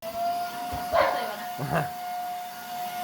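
A dog barks twice at a running vacuum cleaner, two short sharp barks close by over the machine's steady whine in a home.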